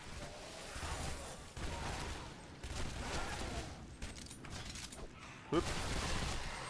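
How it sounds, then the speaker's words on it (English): Dual Uzis firing in the video game Shadow Warrior, bursts of rapid gunfire in repeated stretches with a brief whoosh, mixed with a voice talking over the action. "I love the dual Uzis"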